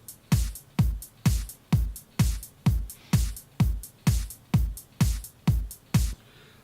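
A simple electronic dance beat: a four-on-the-floor kick drum with claps on beats two and four and off-beat hi-hats, repeating steadily for about a dozen loud, punchy hits before stopping.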